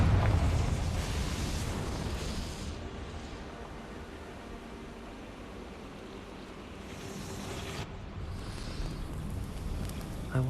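A Confringo blasting spell explodes in the Hogwarts Legacy video game: a broad roaring burst that fades to a lingering rumble and then swells again toward the end, with no talking.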